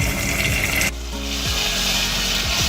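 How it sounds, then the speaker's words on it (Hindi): Tomatoes and spices frying in a pan over a full flame: a steady, close sizzle with soft stirring scrapes, loud throughout and alone. "अब हमारे टमाटर फुल फ्लेम पे पक रहे हैं"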